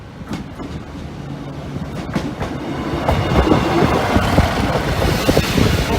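Train 3355 bound for Doncaster via Lincoln passes Sleaford East level crossing, a steady rumble with clickety-clack wheel beats that grows louder and nearer over a few seconds, with no voices.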